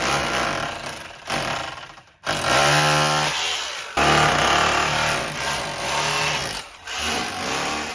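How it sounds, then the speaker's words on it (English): An SDS drill fitted with a scutch attachment chatters loudly against render on brickwork. Several sustained bursts are cut by brief pauses, and the harsh grinding rattle stays close and constant. "We've got the Scutch piece in the end of the drill, as you can see"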